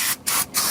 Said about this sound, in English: I'm just using some brake clean in order to clean off this surface.